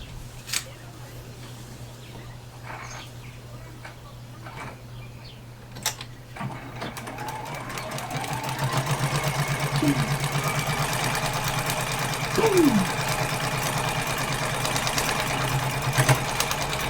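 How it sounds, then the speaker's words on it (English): A sewing machine stitches the last seam of a quilt unit, starting after a few soft clicks and handling noises, then running as a steady close mechanical whir to the end. "we will sew that last seam for this unit"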